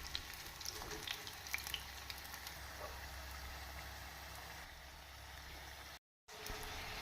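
Onion bajji frying in oil while being turned, a soft, even bubbling sizzle with faint occasional clicks, quiet throughout and cut by a short silent gap.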